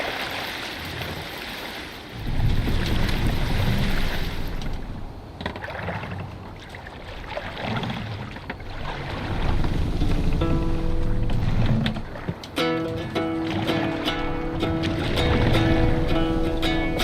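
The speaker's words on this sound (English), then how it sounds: "Good sailing wind here, Eivor." Longship sailing at sea under strong wind in Assassin's Creed Valhalla: continuous rushing water and wind swell and fade, with a soft musical melody rising near the end.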